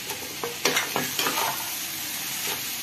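A spiced sabudana mixture stirred in a pan: a few distinct scraping strokes early on over a soft, continuous sizzle that settles into a quieter hiss, with no voices.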